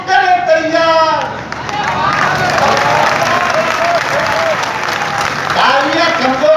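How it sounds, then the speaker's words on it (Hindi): Audience applause at a Hindi kavi sammelan poetry gathering, steady crowd clapping that runs the whole stretch, with a voice speaking over it at the start and end. "तालियां कमजोर रह गई"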